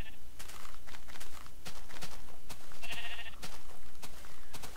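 Sheep bleat in Minecraft, a short electronic bleat mid-clip over steady game ambience, with hollow footstep-like taps throughout.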